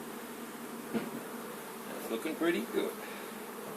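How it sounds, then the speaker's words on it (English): A honey bee swarm hums around a hive as bees file in, a soft continuous buzz with individual bees droning close by in short passes, while a person speaks quietly. "Yeah, they're going in. Some bees."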